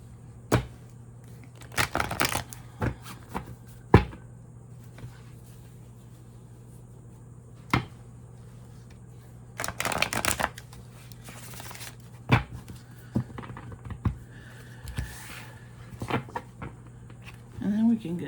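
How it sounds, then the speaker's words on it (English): Several quick bursts of tarot card shuffling, crisp riffles and taps spaced across the clip, close by over a steady low hum and quiet room noise. "All right, let me shuffle these one more time."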